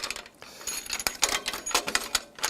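Captive wing screws are spun tight by hand on the props of a Quad'Up Evolution scaffold, giving a rapid, irregular ratcheting rattle of metal clicks close up, with no voices during it.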